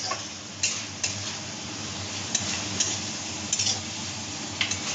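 Spices being stirred in a cooking pan for a kachur shak dish, a soft continuous scraping and sizzle with a few sharper clinks of the utensil against the pan, close and alone without talk.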